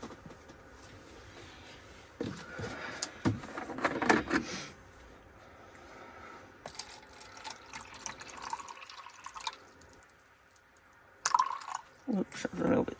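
Water trickles and drips as it is poured for a mould mix and weighed, with intermittent pouring splashes and small clinks, while a voice talks in between.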